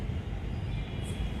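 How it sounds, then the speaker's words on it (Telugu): A metro train passes at a distance, a low steady rumble and whir that holds evenly for a moment with no one talking over it. "ఇదిగో మెట్రో ట్రైన్ ఇప్పుడు కూడా వస్తుండే."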